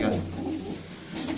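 Pigeons kept by a pigeon fancier give soft, low, throaty coos close by, a short rolling murmur with a brief swell at the start and again near the end.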